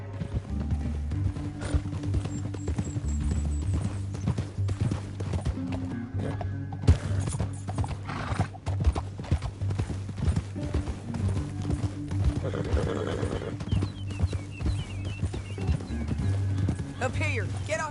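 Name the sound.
horses galloping and neighing in video game Red Dead 2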